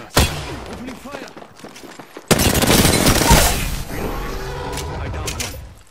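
Apex Legends gunfire: a sharp single shot, then a long, loud burst of rapid automatic fire that rattles on with mechanical clatter, while a character voice speaks over the shooting.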